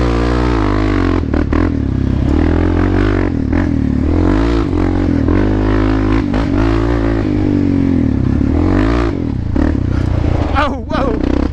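A Kawasaki Z400 motorcycle is ridden in second gear across a sandy field, its engine droning loud and close with rising and falling revs, while a rider talks over it.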